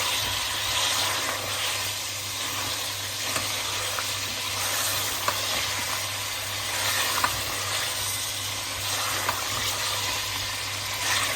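Spices and black pepper roast in a pan for a namkeen gosht dish, giving an even, steady hiss and sizzle that runs unbroken for over ten seconds with no talking.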